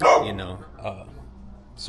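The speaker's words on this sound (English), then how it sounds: "that's my neighbor's dog" A dog gives a sharp bark at the start, then a softer yip, close by, while a person speaks briefly.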